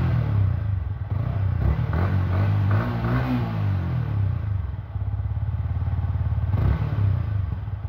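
A 2023 Yamaha XSR155 motorcycle with a full exhaust system revving to 5,000 RPM, close and loud, its engine climbing in pitch, holding, then settling back to a steady throaty idle.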